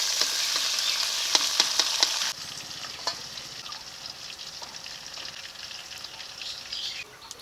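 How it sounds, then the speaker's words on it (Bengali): Pieces of kuchia eel fish frying in oil in a pan, a dense crackling sizzle with sharp pops that drops to a quieter, steadier hiss partway through, no one talking. "বাকি মাছগুলোকেও ভেজে নিচ্ছি"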